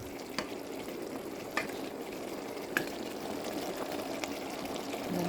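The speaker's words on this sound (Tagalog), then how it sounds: "Halu-haluin ng konti." Sweet and sour fish fillet stirred in a hot pan, a low steady sizzle broken by a few sharp scrape-and-clack stirs of a utensil, close and with no voices.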